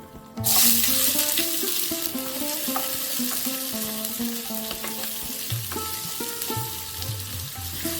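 Chopped onion hits hot mustard oil and breaks into a loud, steady sizzle that continues throughout, with background music playing underneath.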